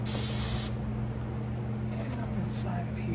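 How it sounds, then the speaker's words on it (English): Lithium grease sprayed from an aerosol can into the door lock cylinder of a 1979 Chrysler Cordoba, a loud close hiss for about half a second followed by short fainter bursts, over a steady low hum. "We will spray a little lithium grease up inside there."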